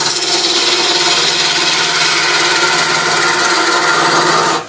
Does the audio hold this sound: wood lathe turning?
yes